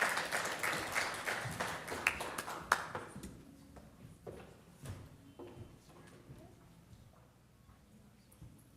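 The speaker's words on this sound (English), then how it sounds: "Let's give a warm round of applause for our esteemed thought leaders." An audience at an entrepreneurship discussion event applauding to welcome the speakers, a burst of clapping that starts strong and fades away over several seconds.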